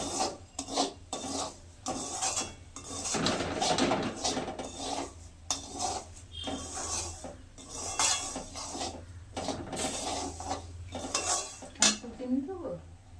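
Semolina being stirred and roasted in a pan for upma, with repeated scraping and rasping strokes of a utensil against the metal pan, close up, in uneven bursts with brief pauses.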